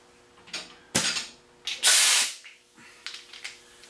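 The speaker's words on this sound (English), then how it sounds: "What I do next is I take my 3/8 drive butterfly," A 3/8 drive butterfly air ratchet loosening brake rotor bolts on a Ducati, heard as short hissing air bursts with one longer blast, close and fairly loud, separated by brief gaps.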